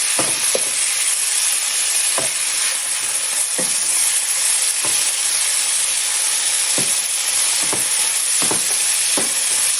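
Chicken and rice sizzling loudly in a pot, a constant hiss broken by regular scraping knocks of a spoon stirring, close up with no voices.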